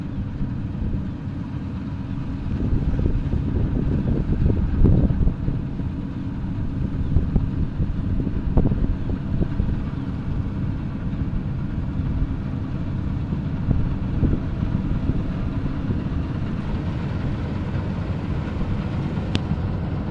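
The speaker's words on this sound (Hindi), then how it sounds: "तो आप देख रहे हो आगे आ चुकी है कंबाइन।" A combine harvester working a wheat field, heard as a continuous low mechanical rumble that swells slightly as it approaches, mixed with wind buffeting the microphone, loud and with no talk.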